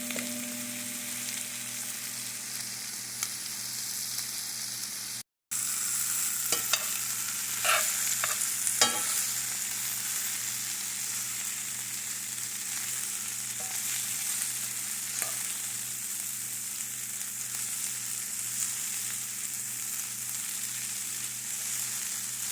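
Sausages and cabbage fry in a pan, a steady close sizzle with stirring clatter and a few sharp utensil taps, broken by a momentary cut to silence early on.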